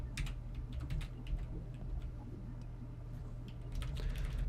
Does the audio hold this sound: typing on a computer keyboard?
yes